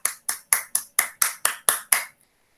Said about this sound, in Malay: cikgu nak semua bagi tepukan kepada kelas ni